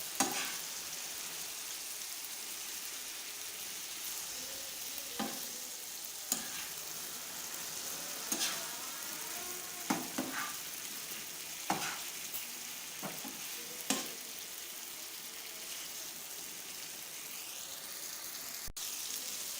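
Chicken fries on a tawa with a constant hissing sizzle, while a utensil scrapes and taps at intervals in the foreground; nobody speaks.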